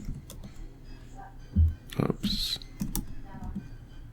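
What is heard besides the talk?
typing on a computer keyboard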